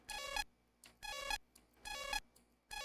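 Undertale game sample played dry, four bright chiptune-like tonal bursts with stacked harmonics, each about half a second, repeating evenly with short gaps and faint flickers between.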